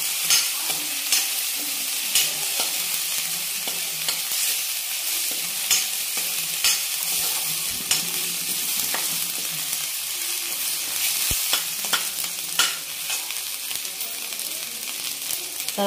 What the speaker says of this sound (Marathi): राहिलेली आले लसणाची पेस्ट आहे ते टाकून देते. ते पण छान मिक्स करायची.